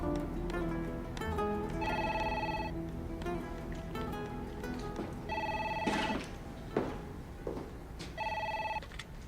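An indoor telephone rings in repeated electronic bursts of a few seconds each, moderately loud, with small background noises between the rings.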